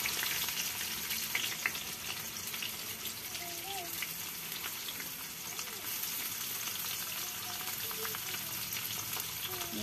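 Chopped garlic and onion fry in a pan with a continuous crackling sizzle; faint voice-like sounds drift low in the background.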